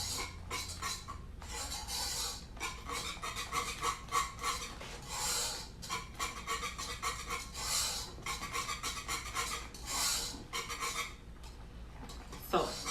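A spoon scrapes the bottom of a pot while stirring a thickening mixture on a flame, giving rhythmic, close rasping strokes that repeat steadily and fairly quietly throughout.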